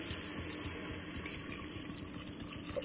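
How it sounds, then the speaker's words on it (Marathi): Water poured from a small vessel into a pot of chopped vegetables being cooked for pav bhaji, a steady continuous splashing pour lasting throughout, close and moderately loud with no talking. "आता मी याच्यामध्ये 1 तांब्या पाणी ऍड करत आहे या सर्व भाज्या शिजवण्यासाठी"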